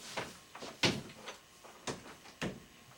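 Interior house doors in a damaged home are opened and shut several times, giving a handful of separate soft knocks and latch clicks spaced out over a few seconds in a quiet room.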